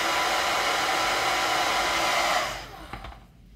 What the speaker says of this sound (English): just because I'm not used to using the hairdryer, I'm going to apply a little more heat just to make sure.